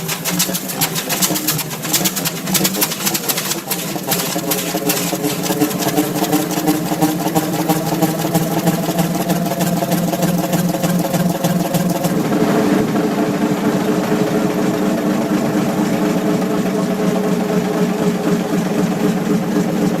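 A rare old engine runs with a loud, rapid mechanical chatter of dense repeating beats, settling into a steady idle that continues without a break for the whole stretch, with no voices.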